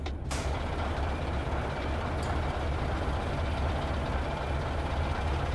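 A steady, deep diesel drone comes from an Iveco Turbo Star truck engine running continuously, loud and close, with a brief hiss of air at the start.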